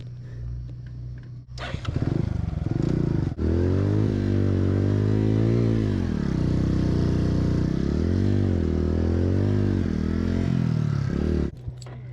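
A motorcycle engine revs hard with its rear wheel stuck and spinning in mud, a loud close roar that rises and falls in pitch for about ten seconds before cutting off abruptly.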